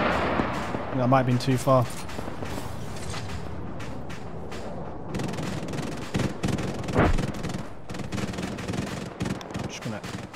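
Gunfire in a video game shooter, with bursts of shots and booming reports scattered through a steady background rumble while a person talks over the action.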